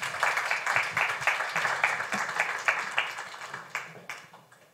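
Audience applause at a panel event rings out as steady, fairly close clapping from a smallish crowd, tapering off toward the end.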